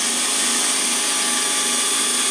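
A fanless upgraded one-horsepower motor on a PM727M milling machine runs with a steady, even whine and hum, loud and continuous throughout, no voices.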